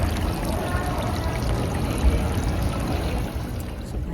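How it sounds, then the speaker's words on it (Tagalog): Steady rushing and pouring water from an indoor fountain in a Toronto shopping mall, continuous and fairly loud from start to finish with no pauses. "May tubig oh. May tubig yan."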